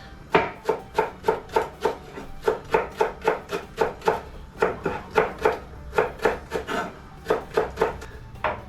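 A knife chops green onion and parsley on a cutting board while shakshuka is being made. Quick, even strokes come close to the microphone in a steady rhythm, with brief pauses between runs and no talking.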